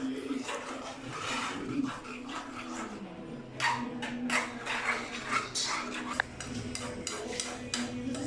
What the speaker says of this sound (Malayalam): അതെല്ലാം കൂടെ കൂട്ടി ഇങ്ങനെ ഇളക്കി കൊടുത്തുകൊണ്ടിരിക്കുകയാണ്.